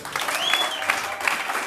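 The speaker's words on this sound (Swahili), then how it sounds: "Wapi makofi ya Yesu?" A church congregation claps together in a dense, steady burst, with a faint whistle-like tone and some crowd noise mixed in.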